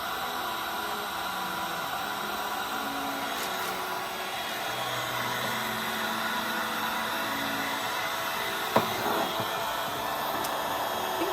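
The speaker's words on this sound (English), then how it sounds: "I need maybe a different type of heat gun, one that turns off and on really quickly." A heat gun blows hot air steadily while melting crayons onto a gourd ornament, giving a constant close whooshing hiss that runs unbroken throughout, with a brief sharp tap near the end.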